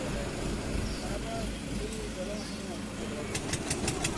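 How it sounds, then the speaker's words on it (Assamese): A motorized country boat (bhutbhuti) ferry on the Brahmaputra near Majuli, its engine a low, steady rumbling drone under outdoor wind and a nearby voice talking, with a few sharp ticking clicks near the end. "এইখন দেখিছেনে ভুটভুটি নাও"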